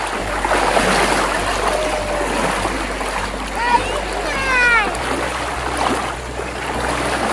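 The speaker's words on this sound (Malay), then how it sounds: "Sungai dia air laju sikit" Swift river water rushing over rocks at a shallow forest camping spot near Tanjung Malim, a steady broadband wash with splashes, with people talking throughout and birdsong briefly over it.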